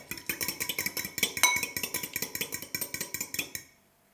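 Egg white and water mixed briskly in a bowl give a fast, even run of light clinks and taps, about four strokes a second, close and fairly quiet, ending abruptly with no talking.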